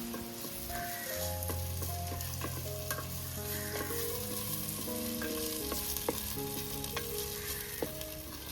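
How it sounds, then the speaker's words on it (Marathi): Onions frying in a pan for a dried fish curry: a steady sizzle with scattered stirring scrapes, close and moderate, while faint tonal background music plays and nobody speaks. "कांदा आता आपण लाल असा पोळून घेणार, शिजवून घेणार."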